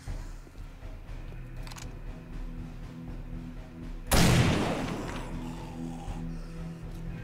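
A single sharp, loud gunshot, likely a shotgun, fires in the 7 Days to Die video game, bursting over steady background game noise and then tailing off with a brief decaying echo.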